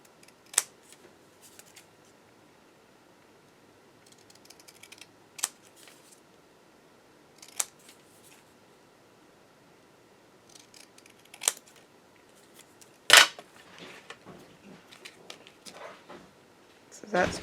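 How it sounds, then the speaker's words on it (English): Occasional sharp scissor snips trim a handmade Christmas card smaller, scattered sparse clicks and short cuts over quiet background with soft handling rustles between them. "I may need to cut it a little smaller."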